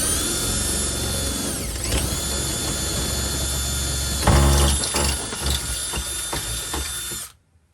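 A power drill bores a hole through the metal bulkhead of an Iveco Daily campervan build, whirring loudly and steadily up close, surging harder midway as the bit breaks through, then cutting off abruptly.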